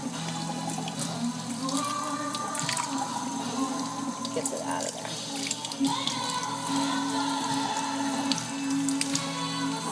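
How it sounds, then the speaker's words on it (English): Tap water runs steadily into a kitchen sink, rinsing the seeds out of dried chilies while making red tamales. The flow is continuous and fairly close, with a person talking over it. "I just kind of run the water through it and it washes them out"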